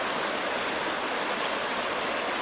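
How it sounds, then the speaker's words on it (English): The Cataloochee River rushes past a Smoky Mountains campground in a steady, broad hiss of flowing water, close and unbroken, with no voices over it. "I believe it's the Cataloochee River."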